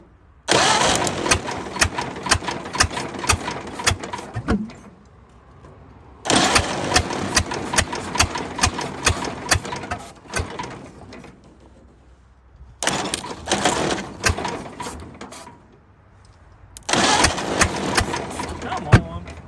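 A 1929 Ford Model A engine, running rough as if on one cylinder, catches and runs in four separate rattly bursts of several seconds each, with quiet gaps between them.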